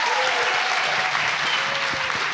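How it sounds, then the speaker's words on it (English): Audience at a panel interview on misinformation applauding steadily, a dense continuous clapping from many people indoors, loud and even throughout with no talk over it. "we need to give him a big round of applause"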